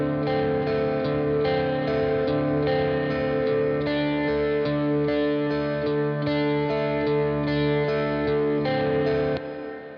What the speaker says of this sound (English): the second guitar sounds like this.